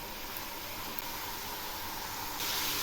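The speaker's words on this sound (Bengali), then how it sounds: "এগুলি বেশ কিছু সময় ধরে ভাজতে হবে।" Vegetable stems and potatoes frying in hot oil give a continuous, even hiss that is fairly quiet and swells slightly near the end.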